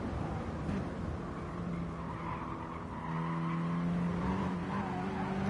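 Mini Cooper race cars braking into a corner at Goodwood Motor Circuit give a sustained tire squeal over steady engine drone, heard from a distance.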